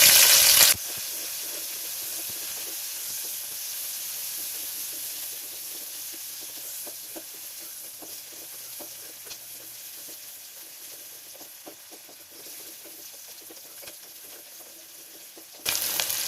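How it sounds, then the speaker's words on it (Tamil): Onions fry in hot oil with whole spices in a pressure cooker for mutton kuzhambu, giving a steady close sizzle with scattered crackles and stirring scrapes, and louder bursts at the start and end. "வெங்காயம் கொஞ்சம் ஃப்ரை ஆகட்டும்."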